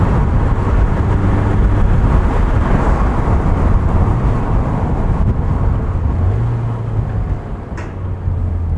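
Inside a 1996 BMW Z3 on the road, the engine drones loud and continuous with steady road rumble, rising and dipping slightly as the revs are matched between gear changes.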